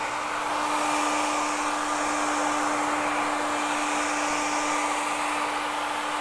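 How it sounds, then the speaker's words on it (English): A blow dryer runs in a steady, even whir with a constant hum, drying neon green paint on custom airbrushed Converse shoes. It sounds close and continuous, with no talking. "let me go back to the blow dryer."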